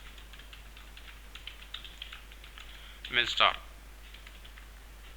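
Keystrokes on a computer keyboard as data is entered into Tally ERP 9 accounting software, faint scattered taps followed by a brief louder burst of clicks, with a short spoken word nearby.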